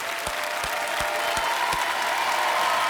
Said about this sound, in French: Je crois qu'on peut l'applaudir très fort.